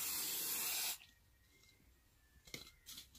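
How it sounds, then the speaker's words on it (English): A can of hairspray gives a sharp, loud aerosol hiss, spraying continuously for about a second, then stopping, followed by faint rustling and light handling sounds. "spray across your face"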